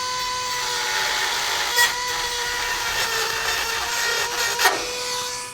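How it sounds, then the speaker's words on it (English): A small cutting wheel notches an access hole in the frame of a 2016 Ford for a Curt trailer hitch install, giving a steady high-pitched whine with a faint grinding texture and brief louder bites. "what we're going to do is just use a little cutting wheel"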